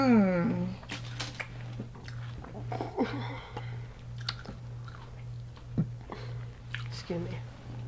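Someone chews Hot Cheetos fried king crab close to the mic, with moist crunching and biting sounds. Brief vocal murmurs and a steady low hum sit underneath.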